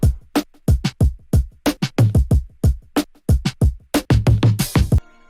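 Indie pop drum mix run through an Abbey Road Vinyl stereo plugin preset gives a dry, punchy kit pattern with sharp separated kicks and snares in a steady rhythm, ending with a short burst of noise.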